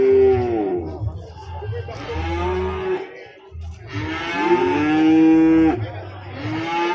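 A Boer goat at a livestock market gives loud, drawn-out bleating calls with harmonic wavering, several calls in a row with a short gap, over crowd murmur and low background noise.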